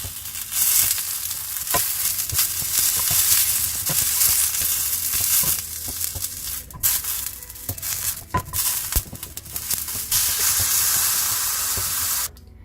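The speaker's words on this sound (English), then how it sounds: "as your vegetables roast, you can take them out" Vegetables for a red chilli salsa roast in a hot pan, giving a loud, continuous frying crackle with scattered sharp pops and stirring scrapes, briefly dropping away near the end.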